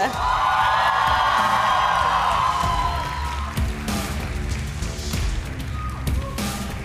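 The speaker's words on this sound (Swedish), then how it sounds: "applåd för Kai!" Crowd at a cosplay championship cheering and whooping for a contestant walking on stage, loud and continuous at first, then easing into scattered claps and shouts.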